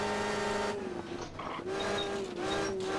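Rally car engine in Richard Burns Rally on the snowy Uhorna stage, tyres biting into tarmac under the ice, with a steady engine drone broken by short scrubbing grip noises and bright squeals, loud and close throughout.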